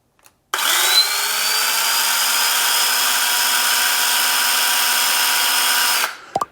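ECHO 56V mini battery-powered chainsaw runs steadily for about five and a half seconds, a loud, even motor whine that starts abruptly and cuts off at the end, with no talk over it.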